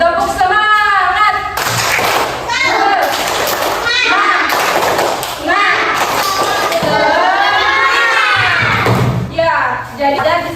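Children in a classroom chant together in rhythm while clapping, with thumping beats and an excited crowd of young voices filling the room.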